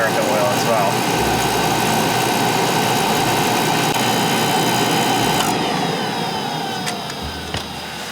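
An oil-fired boiler burner runs steadily while its oil line purges air, giving a continuous loud roaring hum with a faint rattle and a brief click near the end.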